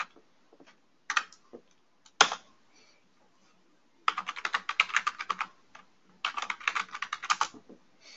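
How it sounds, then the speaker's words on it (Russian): Bursts of typing on a computer keyboard, quick clusters of light key clicks separated by pauses, close and fairly quiet in a still room. "И теперь пользователь начинает вдруг что-то печатать."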